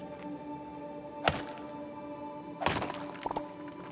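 Stone breaks apart under mining blows in Fae Farm: a crisp cracking strike, then a second heavier shattering hit with a few trailing clinks, each standing out clearly over a soft ambient hum.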